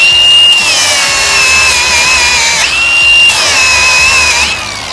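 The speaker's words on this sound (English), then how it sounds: "grind down a clean spot for our ground" An angle grinder grinds a clean spot on a steel shipping container for a welder ground clamp, giving a loud, steady high-pitched whine that dips twice under load and then recovers.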